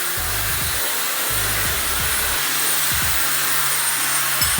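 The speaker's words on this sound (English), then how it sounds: "let's test out which one's the better hairdryer." A steady, loud rushing blow of air from a KiCA Jet Fan 2 used as a hair dryer runs throughout, with a low rumble pulsing beneath it.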